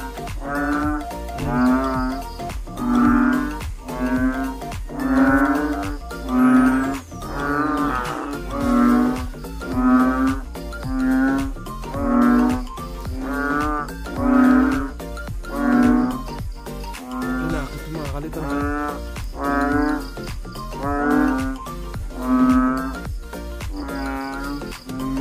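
Loud, rhythmic croaking calls repeating about once a second, a steady chorus of deep frog calls with no talking.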